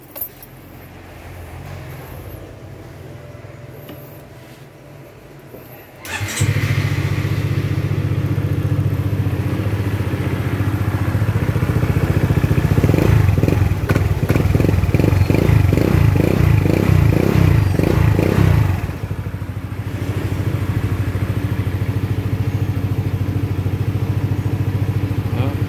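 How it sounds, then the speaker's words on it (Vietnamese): A 2011 Honda SH scooter starts after a quiet moment and then settles into a steady idle. The engine is close and stays fairly loud, with a brief rougher stretch midway, and a voice talks faintly in the background. "Mình nổ máy cho anh em nghe tiếng máy luôn nha."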